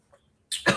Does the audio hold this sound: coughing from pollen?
yes